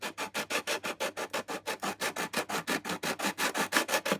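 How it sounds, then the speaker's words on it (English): A Godin 5th Avenue guitar part is worked by hand with 3M sandpaper in steady back-and-forth strokes, about five per second, close and loud with an even rhythm, and no voices. "stick it 3M sandpaper, and I'm just carefully working it"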